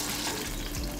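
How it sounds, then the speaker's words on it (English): McDonald's menu items sizzle vigorously in hot deep-frying oil, a dense, continuous crackling hiss that stays loud and close throughout. "these things are sizzling so much"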